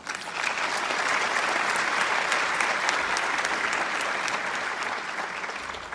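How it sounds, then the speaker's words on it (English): A large audience at a University of Michigan Women of Color Task Force event gives a full round of applause, thick and steady clapping that builds quickly and holds before slightly tapering. "Let's give yourselves a round of applause."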